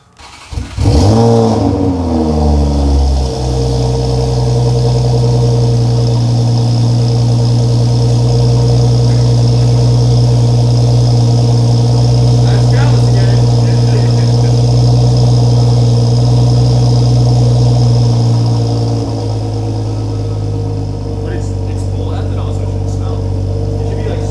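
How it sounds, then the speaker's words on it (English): A catless BMW M340i with a big turbo, running on ethanol, cranks and fires, revving briefly before settling into a loud, steady, deep idle that drops slightly near the end. "We're gonna do our first Catless startup with ethanol."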